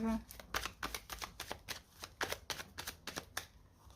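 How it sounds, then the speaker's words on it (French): Oracle cards shuffled by hand: a quick run of about a dozen crisp riffling flicks in a steady rhythm, close and fairly quiet. "On va prendre une carte de l'oracle coup de cœur et une carte de l'améthyste love."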